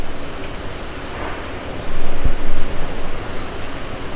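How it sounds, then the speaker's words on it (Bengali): Heavy rain falls steadily and loudly, a continuous dense hiss of drops on surfaces that swells a little partway through without pausing. "এই যে এইভাবে একদম সকাল থেকে প্রায় 3 ঘন্টা হয়ে গেছে এই একই রকম বৃষ্টি হইতেছে"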